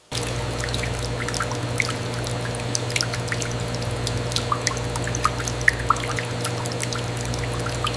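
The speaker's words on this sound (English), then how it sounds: "Targeted chilled water jets rinse the open cavity, washing away remaining residue without saturating muscle tissue." Chilled water jets rinse the open body cavity of a giant tuna in a processing factory, a steady pouring, dripping flow over a constant machinery hum, with no talking.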